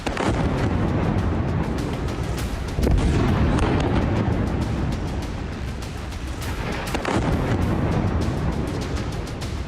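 Heavy bombing strikes a Beirut neighbourhood in a continuous roar of explosions and rumbling blasts. Several sharper booms stand out, loud and dense, with no speech.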